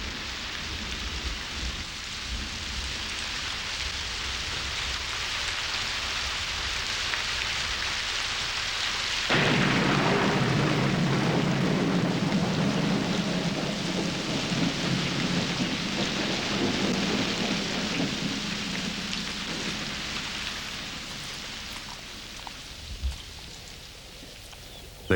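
A thunderstorm with heavy rain on the Serengeti plains, a steady hiss of rainfall that surges louder midway as a deep rumble of thunder rolls in and lingers, with a sharper crack near the end.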